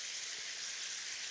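A sauce of orange juice and orange zest simmering in a pan, making a steady, soft bubbling sizzle with no pauses, heard alone.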